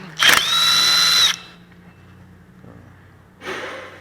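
A power drill or impact gun spins out a bolt on a Toyota front-wheel-drive rear wheel bearing. One loud, steady whine lasts about a second, then a quieter hum follows and ends with a brief second burst.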